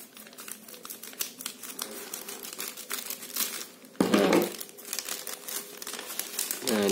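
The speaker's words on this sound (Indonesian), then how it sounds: "Ini kita unboxing langsung." A parcel being unboxed up close: crinkling plastic packaging and rustling wrap, with sharp crackles and tearing bursts partway through.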